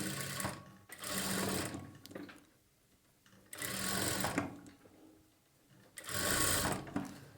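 A sewing machine stitches a boat-neck blouse back neck in three steady runs, each about two seconds long with short quiet pauses between, close and alone without talk.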